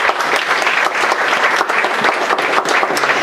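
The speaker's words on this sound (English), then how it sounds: "Another round of applause for that" An audience applauds at an evening oral history and film screening event, a dense, loud, steady wash of clapping hands that carries on without a break.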